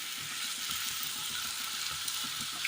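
Chicken pieces drop into browned masala in a pan, setting off a steady close sizzle with light stirring scrapes throughout; no voices.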